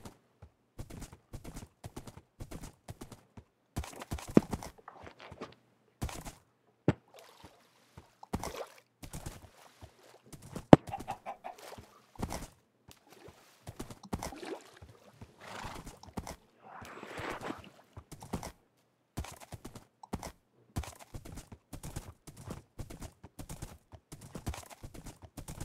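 Horse hooves clip-clop in a video game, irregular bursts of quiet hoof steps starting and stopping throughout, with an occasional faint neigh and no talk.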